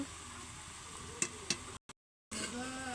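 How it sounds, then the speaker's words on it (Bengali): Beef curry spices with salt, chili powder and turmeric are stirred in a pot over a clay stove, a steady sizzling hiss with two brief scraping knocks of the spoon before the sound cuts out and returns. "এখন নাড়াচাড়া দিব। এখন মশলা কষানো চলছে।"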